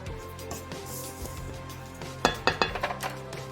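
A spoon mixes brown sugar into cassava cake batter in a bowl: a soft scraping stir, then a quick run of sharp clinks against the bowl near the end.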